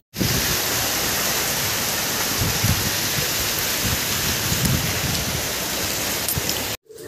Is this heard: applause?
no